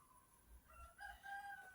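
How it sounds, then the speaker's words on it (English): A rooster crows at a distance, faint and drawn out, with a low background rumble and no one speaking. "I know you can hear the rooster"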